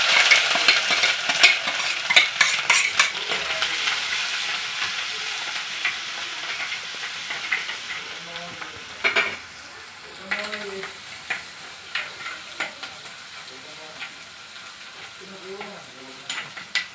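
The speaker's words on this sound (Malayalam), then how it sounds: "ഉലുവായും കടുകും ഒന്ന് പൊട്ടുമ്പോഴത്തേക്ക് ഇഞ്ചി വെളുത്തുള്ളി ചതച്ച് വെച്ചത്" Crushed ginger and garlic hit hot oil with fenugreek and mustard seeds for an Idukki-style fish curry, bursting into a loud sizzle that fades to softer crackling and stirring scrapes.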